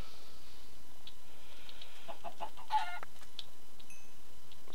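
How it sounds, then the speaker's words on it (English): Chicken clucking in Minecraft version 1.8, a few short soft clucks mid-distance over a quiet game background, with no talk. "Well, there's a chicken."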